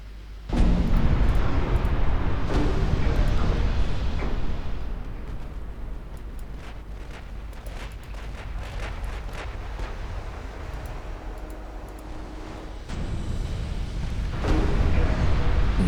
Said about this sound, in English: Nine torpedo hits now.